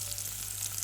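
Spices crackle and sizzle in hot oil while tempering for a Batticaloa-style milakuthani curry, a steady close frying hiss that runs for under a second with no voices.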